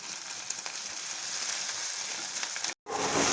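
Thinly sliced onions fry in a pan for an egg masala curry, giving a continuous close sizzle that cuts out briefly near the end and then resumes.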